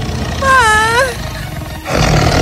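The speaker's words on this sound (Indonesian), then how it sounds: "dia melihat bahwa harimau itu telah menjudutkan Pastorella dan mendekat ke arahnya" A tiger roars once in a story set in the jungle, a loud, rising and falling snarl lasting about a second, followed by rumbling background noise.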